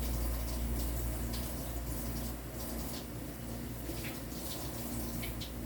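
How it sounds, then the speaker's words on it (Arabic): Water runs and splashes steadily as minced chicken is strained, with a continuous low hum of running water and faint drips. "المفروم عم صفيه من المي."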